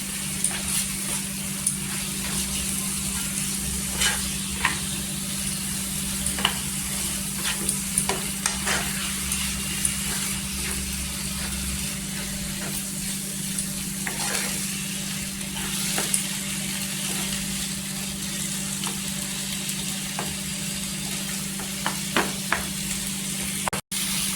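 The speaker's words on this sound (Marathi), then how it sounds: "तर इथे मसाल्यामध्ये मिक्स करायचं इथे बघा कलर असा सुरेख आलेला आहे" Roasted eggplant bharit is stirred into sizzling masala in a pan, with a steady close frying hiss running throughout and scattered spoon scrapes and knocks against the pan, and no voices.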